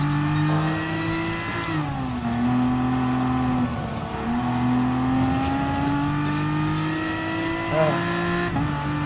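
Aston Martin V12 Vantage GT3 race car in Gran Turismo Sport, its engine droning loud and steady for the whole stretch, pitch sagging and climbing through gear changes with brief lifts and rev spikes.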